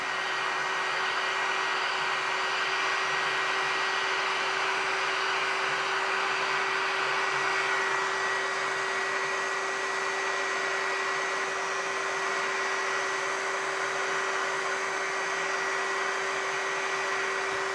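An 1800W TDAGRO variable-temperature heat gun runs steadily throughout, giving a constant blowing, whirring motor hum with a steady tone, close and fairly loud, with no talk over it.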